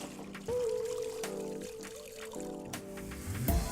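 Waste water drains from the hose of a Hako Scrubmaster B90 scrubber dryer in a steady gushing pour. It holds fairly constant and swells slightly near the end, with a background musical tone throughout.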